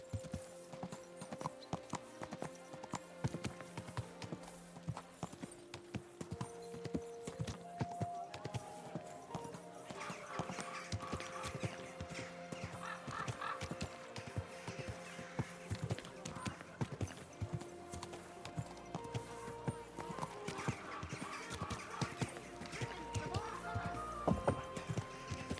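Horse hooves clip-clop steadily in a rhythmic walking gait in the video game Kingdom Come Deliverance 2, moderately loud with game music and ambient tones underneath, continuing throughout.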